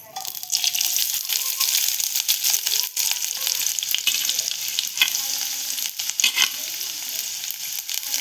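Chopped onion frying in hot oil in a kadhai for a prawn curry: a loud, dense, steady sizzle that runs throughout, with occasional stirring clinks on top.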